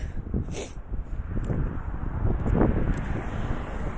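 Outdoor wind buffeting the microphone as a steady low rumble with gusty swells, fairly close and moderately loud, with faint higher noises above it.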